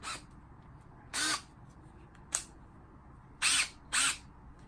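Limited edition gunmetal Snap-on cordless screwdriver on a low battery, running in short whirring bursts: one quick, then a longer one, a brief blip, and two final bursts close together, fairly near against a quiet background.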